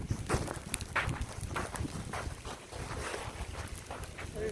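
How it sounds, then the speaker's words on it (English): Strong gusts buffet the microphone outdoors beside a barn on a flooded farm during a winter storm, a steady, close, rumbling roar with scattered thumps and rustles. "Ooh, it is windy when you get on the other side of the barn."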